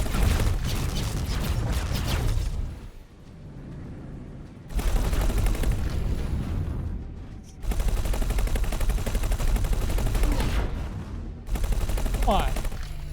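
Spaceship guns in the space game X4: Foundations firing in long sustained bursts of rapid mechanical shots, loud and close, broken by brief pauses.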